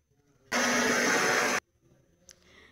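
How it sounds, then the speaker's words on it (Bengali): A kitchen mixer grinder whirs loudly through a batch of soaked rice for about a second, a steady dense motor roar that starts and stops abruptly, followed by quiet room sounds and a faint clink. "মিক্সিতে করে বেটে নিলাম।"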